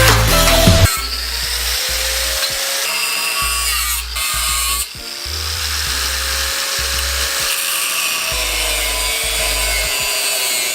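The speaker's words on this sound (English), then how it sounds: "my dad got the muffler all cut up to where he needed it" A power saw cuts through a car muffler during exhaust work on a Miata, producing a harsh, continuous grinding and buzzing close by, with brief dips and surges as the cut progresses.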